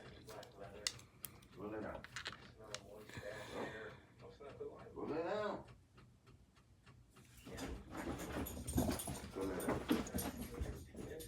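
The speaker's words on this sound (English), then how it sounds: "Whiningest dog I've ever seen in my life." A pet dog named Nyla whines and whimpers in short, high, wavering bursts, close by, with a person talking over parts of it and some light tapping in the background.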